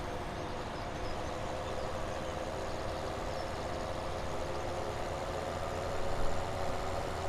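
A tractor engine idles steadily in Farming Simulator 17, a continuous mid-low rumble that holds an even level throughout, with no talk over it.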